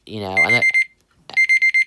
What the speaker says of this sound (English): why does this keep beeping?